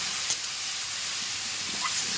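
Ghetkol stalks cook with spices in a pan. A steady, soft frying hiss carries throughout, with a couple of faint stirring taps.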